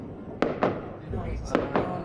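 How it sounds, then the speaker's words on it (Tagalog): New Year fireworks crackling and popping in quick pairs in Europe, four sharp bursts at moderate distance with a faint murmur between them. "Fireworks, so."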